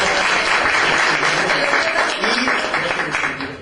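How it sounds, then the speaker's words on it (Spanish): Audience applause at a Catholic charismatic gathering in Toluca-Lerma, loud sustained clapping from a crowd that tapers slightly toward the end. "muy padre, un aplauso otra vez"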